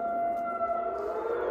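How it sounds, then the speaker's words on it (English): A steady, faint siren tone holds at a constant pitch, heard briefly and from a distance with no voices. "sirens."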